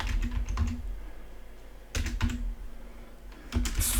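Computer keyboard typing in short bursts of rapid clicking keystrokes, with pauses between the flurries; fairly close and moderately loud, no talking.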